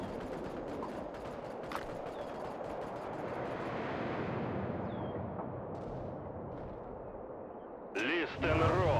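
Soviet artillery guns roar in the World War Armies strategy game, a dense rumbling barrage of overlapping blasts that swells toward the middle, then eases as a voice cuts in near the end.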